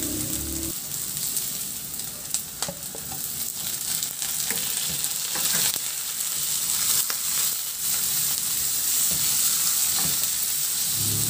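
Onion and tomato sizzle and fry in a pan with garlic, giving a steady crackling hiss. Occasional stirring clatters sound close and clear, with no voices.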